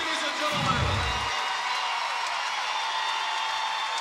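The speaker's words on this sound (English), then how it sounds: "ovation from some in this crowd" A crowd at a college gymnastics floor routine gives a broad, steady wash of cheering and applause, with a low thump near the start and commentary-like talk running over the top.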